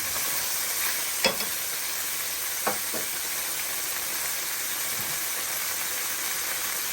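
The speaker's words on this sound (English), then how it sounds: "I'm just going to add my minced garlic. This is 3 cloves of minced garlic." Three cloves of minced garlic sautéing in a pan for a creamy shrimp pasta, a steady soft sizzle and hiss with a couple of brief utensil clicks and no talking.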